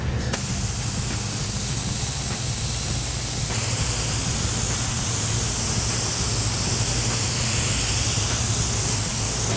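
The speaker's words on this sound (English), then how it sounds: "I'm just barely pulling the trigger and misting it on." An airbrush sprays a fine mist of silver paint with the trigger barely pulled, giving a continuous, even hiss of air that holds steady and close for nearly ten seconds with no talking.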